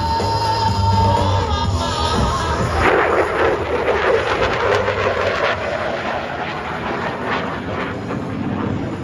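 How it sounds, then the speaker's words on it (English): F-16 Fighting Falcon jet flying in an airshow display, a loud broadband roar that swells and rushes past, steady and strong throughout with no talk. "From your right, the F-16 Fighting Falcon and the Knife Edge."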